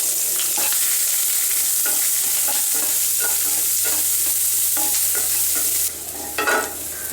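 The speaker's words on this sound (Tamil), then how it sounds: "இதில் வெங்காயம் பச்சை மிளகாவோட சேர்த்துட்டு நல்லா வதக்கிடலாம்" Sliced onion and green chillies sauté in hot oil in a pan, a loud continuous sizzle with soft stirring scrapes throughout, close and without talk.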